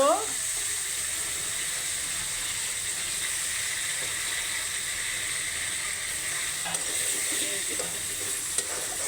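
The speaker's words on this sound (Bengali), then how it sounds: "মশলা কষানো হয়ে গেছে চিংড়ি মাছ দিয়ে নিব" Shrimp go into a pan of spice masala that has already been fried down, and a steady close sizzle and stirring noise runs throughout at even loudness, with no talking.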